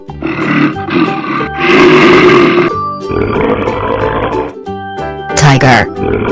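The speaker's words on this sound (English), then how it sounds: "Gorilla." Deep, rough grunting and roaring bursts from a gorilla in an animated children's animals clip, loud and close, several vocal blasts in a row with brief gaps between.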